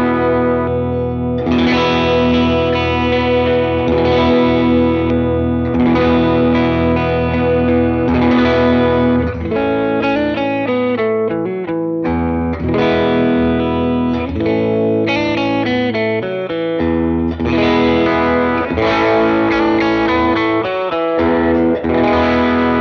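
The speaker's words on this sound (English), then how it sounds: "I'll go bridge, middle, neck. This is clean. Just a little bit of reverb." A PRS SE Starla electric guitar plays a series of ringing clean chords with a light wash of reverb, loud and alone.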